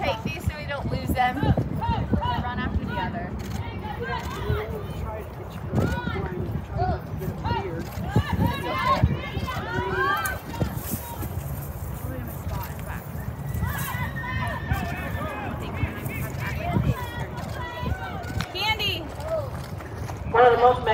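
A barrel racing horse's hooves drum and clop in an uneven rhythm in an arena while an announcer and crowd voices talk over them throughout.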